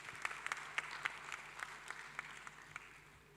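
Applause from a conference audience at a pan-African pension summit, a soft, distant patter of clapping with a few louder individual claps poking through at irregular intervals.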